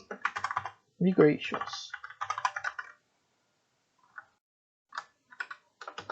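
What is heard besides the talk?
typing on a computer keyboard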